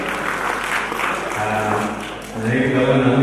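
An audience at the Kajiado Talent Awards Gala 2025 bursts into dense, sustained clapping that swells louder toward the end, with a voice heard faintly through it.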